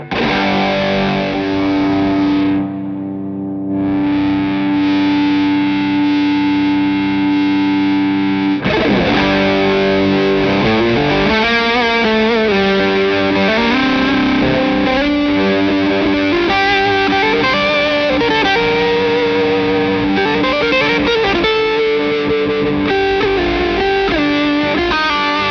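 An electric guitar on the neck pickup runs through a Wampler Paisley Deluxe overdrive pedal, giving thick, fat distorted chords that ring and sustain, then shift into moving melodic bends, loud and continuous with no speech.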